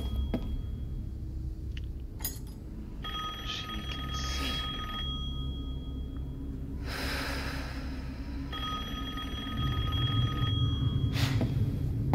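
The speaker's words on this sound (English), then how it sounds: "I don't want to answer the phone." A telephone rings in the horror game Resident Evil Village, with bursts of bright bell-like tones repeating through the clip over a steady low game ambience, with a breathy snort near the start.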